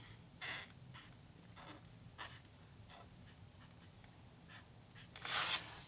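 Marker strokes from a Tombow 526 pen scratching across planner paper, a run of short soft rubbing swipes at close range, quiet and alone with no voices.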